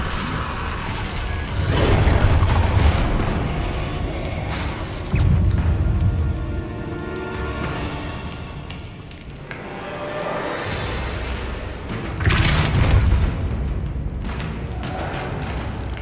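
Confringo spell blasts in the Hogwarts Legacy video game, several booming explosive bursts with whooshes and rumble repeating over the stretch, loud and close amid game effects.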